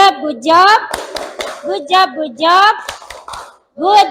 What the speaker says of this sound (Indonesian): beri tepuk good job untuk Ayunda